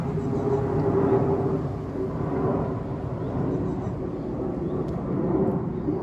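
Airplane flying over a vegetable garden, a steady, fairly loud low rumble that stays even throughout, alone without talk.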